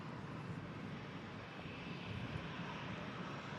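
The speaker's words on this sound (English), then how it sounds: "Another aircraft coming in." An airliner comes in on approach at an airport, a faint, distant, continuous engine rumble and roar holding steady throughout, with no voices over it.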